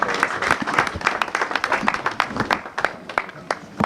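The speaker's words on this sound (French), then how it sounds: "Sous vos applaudissements, merci." Lively audience clapping at a communal installation ceremony in Nguéniène, Senegal, with individual claps clearly separated and close, in uneven, rhythmic bursts.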